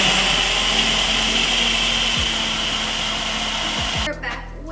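Electric mixer whirring on high while mixing a picadillo con papa recipe with ground beef, a loud steady motor drone that dips briefly as the speed shifts and cuts out near the end.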